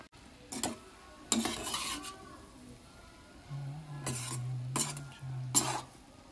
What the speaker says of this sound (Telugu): ఇలా నీట్గా నిదానంగా అన్నం అనేది ముక్కలు కాకుండా కలుపుకోవాలి